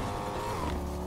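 A car in the Fortnite Chapter 5 Season 1 video game drives and skids with a steady engine drone and a brief tire-squeal sweep. The sound is continuous, close and moderately loud, with no talk over it.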